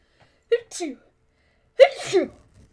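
A person sneezes twice, close and sharp, each with a quick intake of breath before the burst, with a pause between them.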